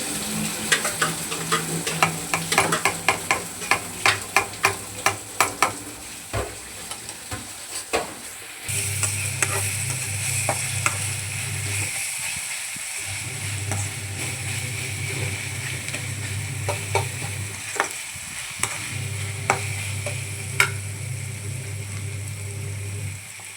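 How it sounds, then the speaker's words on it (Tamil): A utensil stirs and scrapes through a spiced fish mixture with turmeric, garam masala and pepper in a pan, with steady sizzling and frying underneath and occasional sharp taps against the metal. "மஞ்சத்தூள் கரம் மசாலா மிளகுத்தூள் எல்லாத்தையும் போட்டு கலக்கிட்டுருக்கு"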